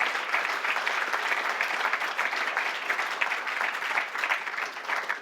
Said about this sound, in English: I think a round of applause for all the presenters